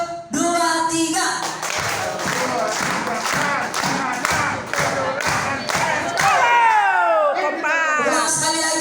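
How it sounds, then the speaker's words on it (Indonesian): A group of people claps hands loudly and in steady rhythm at a gathering, with voices rising over the beat near the end. "Tepuk tangannya kuat, tepuk tangannya."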